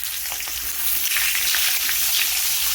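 Whole cumin seeds and green chillies sizzle and spit in hot oil for a Bengali raw-mango rohu fish curry, a loud, dense frying hiss that swells midway, with no talk.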